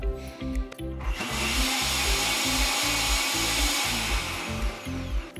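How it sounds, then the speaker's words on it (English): Almond Cow nut milk maker blending almonds, a loud, steady motorized whir with a rhythmic pulsing throb underneath, running continuously and close by without any talking. "you just press the almond cow and it's ready to go"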